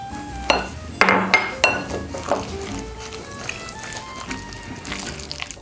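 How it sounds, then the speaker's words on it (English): Sweet potato casserole mixture is worked with butter in a bowl, with uneven scraping knocks and clinks of a utensil against the bowl that taper off into softer stirring. "Gonna give this a really good mix."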